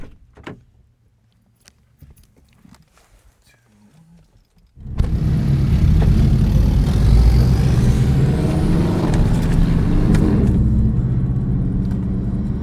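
A car driving the Tail of the Dragon mountain road, quiet at first with a few small knocks, then a sudden loud steady roar of engine and road noise that continues to the end.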